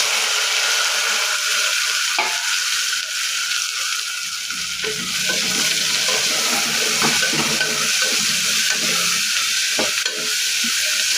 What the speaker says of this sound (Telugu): అల్లం వెల్లి పేస్ట్ వేగిన తర్వాత ఉల్లిపాయలు పచ్చిమిర్చి టమాటా ఇవన్నీ వేసుకొని మగ్గ మగ్గించుకోవాలి